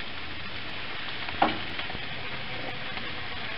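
Ratatouille vegetables cooking on a grill, a steady close sizzle and hiss with a few light scraping stirs, no voices.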